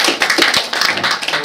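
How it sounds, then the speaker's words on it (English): Audience applause at a panel session on the economics of land degradation, a steady wash of many hands clapping, fairly loud and dense throughout with no pauses. "already there is an applause"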